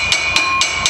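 Hammer blows on a bolt while fitting a strut brace and brakes to a Toyota GT86: four sharp, ringing metallic strikes in steady rhythm, close and loud, with no talk.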